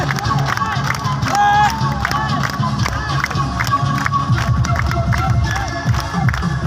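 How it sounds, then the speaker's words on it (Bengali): An audience at a live music event claps in time to a song, a loud rhythmic patter of many hands over crowd voices and singing. "তালিটা কন্টিনিউ করুন তালিটা কন্টিনিউ সবাই"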